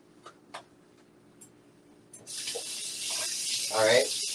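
A kitchen tap runs water over fresh thyme being washed, a soft hiss starting after a few faint clicks and taps and continuing steadily with a brief splashy swell near the end.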